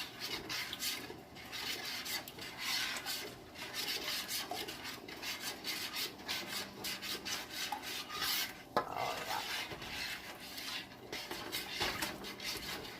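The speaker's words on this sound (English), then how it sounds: "you got to keep stirring because it's getting really thick" Thick strawberry pie filling for canning, stirred continuously in a pot, a rhythmic, close rubbing scrape of the spoon across the bottom that keeps going without pause, with one brief knock partway through.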